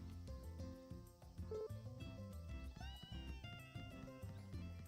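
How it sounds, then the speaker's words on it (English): A cat meows in the farm video game Story of Seasons: A Wonderful Life, sounding distant and fairly faint beneath steady, busy game background music. "I like that you can hear the cat from that far away."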